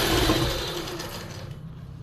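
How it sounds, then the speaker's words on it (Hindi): A sewing machine stitches the lining of palazzo pants, a steady mechanical whir running for about a second and a half before fading out. "तो फिर सिलाई लगानी है यहाँ से अच्छे से मिलाते हुए, और यहाँ से एक पैर के मार्जिन से सिलाई लगा लेंगे"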